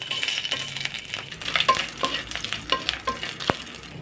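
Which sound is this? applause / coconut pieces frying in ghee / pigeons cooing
coconut pieces frying in ghee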